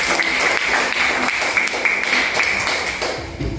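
Schoolchildren in a classroom clap together in steady, rapid rhythmic applause, close and loud throughout.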